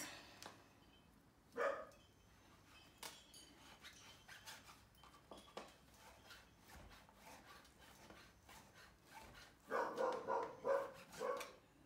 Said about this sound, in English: Sorry about the mad dog that you can hear barking.